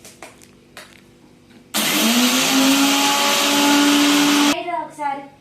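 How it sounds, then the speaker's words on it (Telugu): A kitchen mixer grinder whirs loudly for about three seconds while grinding masala for a goat offal and red gongura curry, then cuts off abruptly, with faint clinks before it and brief voices after. "ఇగో మిక్సీ పట్టేసా, అయిపోయింది, మెత్తగా గ్రైండ్ చేసా"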